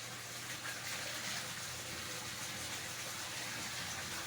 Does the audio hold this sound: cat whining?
no